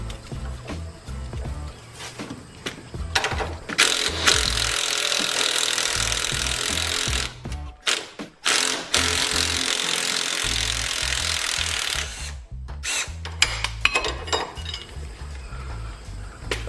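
A wrench working to break free a seized sway bar link nut on a 2009 Ford Focus, loud metallic scraping, clinking and grinding in long bursts with brief pauses, close up and without talk.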